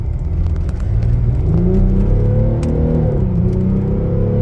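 A 2013 BMW X6 M50d diesel SUV accelerates hard in a rolling pull from 40, its engine note climbing through the revs with a steady rumble and a gear change partway, heard from inside the cabin with no talk.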